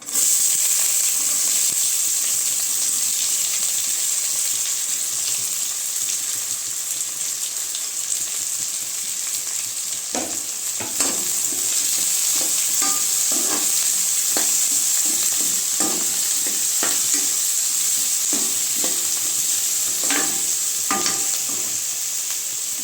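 Chopped onion fried with cashews in hot oil in a pan, a steady bright sizzle with irregular stirring scrapes and clicks, close and continuous with no one talking.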